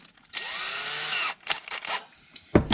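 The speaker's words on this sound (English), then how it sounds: "I'm going to grab a small drill bit" A small power drill with a small bit whines steadily for about a second, then gives a few short bursts and a clunk, while working on a Dodge SRT-4.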